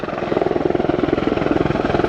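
An AH-64E Apache Guardian attack helicopter flying at the Royal International Air Tattoo air show, its loud, rapid rotor thumping pulsing steadily beneath a broad engine roar.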